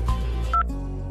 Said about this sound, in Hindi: लो जी रामपाल का फोन है, बात कर लो।